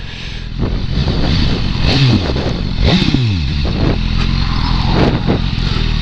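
A BMW S1000R roadster motorcycle engine roars loud and close while riding, with rising revs and gear-change dips, a steady throaty drone throughout.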